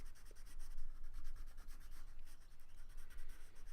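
Colored pencil shading on paper: a steady, close scratchy rubbing with quick back-and-forth strokes running throughout, soft and continuous with no talking.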